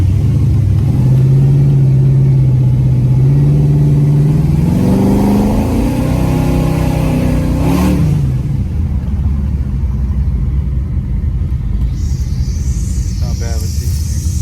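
An Impala SS V8 with a freshly rebuilt 4L60E transmission runs loud and close, its engine note rising smoothly through the revs and then settling into a steady rumble, with a person talking over it.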